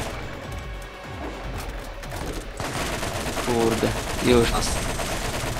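Gunfire in the co-op shooter Borderlands, a steady rattle of shots running through the clip and getting denser toward the end, with players talking over it.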